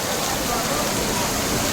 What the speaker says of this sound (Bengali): প্রচণ্ড বৃষ্টি হচ্ছে, প্রচণ্ড। বর্ধমানে প্রচণ্ড বৃষ্টি।